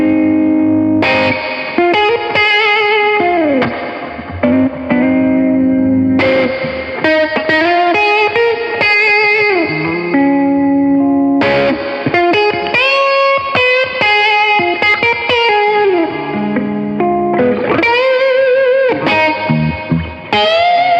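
Electric guitar playing a bluesy line through a Peavey Classic 30 amp on the middle pickup with reverb maxed, notes ringing and washing together, loud and continuous throughout.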